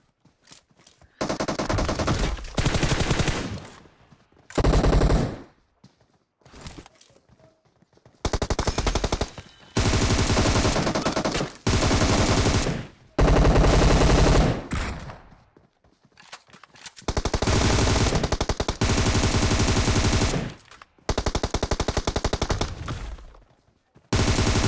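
Automatic gunfire in the PUBG Mobile battle royale game, with loud, rapid bursts of shots in repeated stretches of several seconds, broken by short quiet gaps with faint footsteps.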